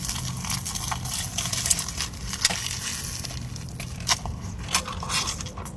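Crunchy bites into an egg roll and mozzarella stick sandwich, several sharp crackling crunches close to the mic over a soft chewing, rustling background, with no talking.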